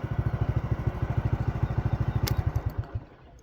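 A motorcycle loaded with two sacks of fertilizer for a wheat field runs with a fast, steady low thudding beat for about three seconds, then the engine note drops away.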